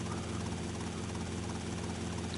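Helicopter in Grand Theft Auto: Vice City Definitive Edition idling with a steady low rotor thrum and engine drone, constant and close throughout with no break.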